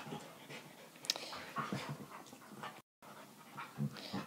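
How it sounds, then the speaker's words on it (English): Two dogs in a play fight, panting heavily with soft growls and whimpers, faint and in the background, with a short gap of silence partway through. "my dogs are having a play fight in the background."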